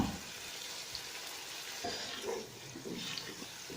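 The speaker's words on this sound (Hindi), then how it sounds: "मसाला तकरीबन फ्राई हो चुके हैं।" Spice masala for kadhi pakora, with a little added water, sizzles softly in a pan on the stove, a faint continuous crackle with gentle bubbling pops.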